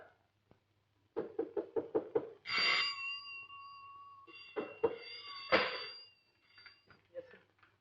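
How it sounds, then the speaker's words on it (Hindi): Rapid knocking on a door, about seven sharp raps in a quick burst at close range, followed by a cat-like meow or wail and a couple of further knocks. "क्यों दरवाजा खटखटाया जा रहा है?"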